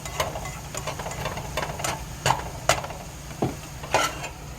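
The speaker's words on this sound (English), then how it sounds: "Hit them with our spatula." Spatula scraping leftover spaghetti noodles from a pot, several short sharp scrapes and taps at an uneven pace over a low background hum, no talking.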